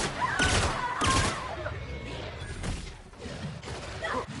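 A few sharp gunshots in the video game The Outer Worlds ring out near the start, followed by scattered thuds and clatter with voices underneath.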